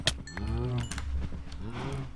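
Cows in a Minecraft Agrarian Skies 2 farm give several short moos close by in quick succession, with the lows rising and falling.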